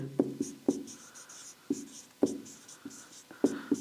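Pen on paper while a discount percentage formula is written out by hand, a series of soft, separate taps and short scratches at irregular intervals, close and quiet, with no voice.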